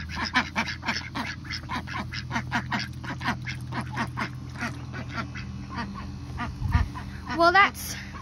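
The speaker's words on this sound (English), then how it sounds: "that's it for our ducks" Pet ducks in a backyard duck pen quack in a rapid run of repeated calls, loud and close, with a voice and some louder honking near the end.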